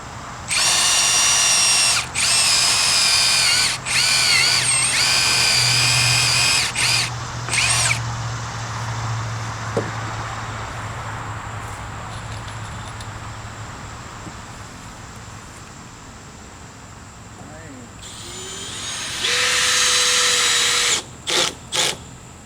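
A power drill whirs in several loud bursts while deck boards are installed, stops, then spins again briefly near the end, with quiet room noise in between.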